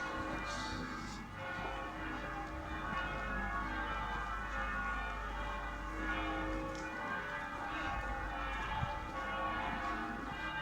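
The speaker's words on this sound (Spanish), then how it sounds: "Que suenen las campanas." Several bells ring in a continuous, overlapping peal, resonant and steady, heard from a distance over a low background hum.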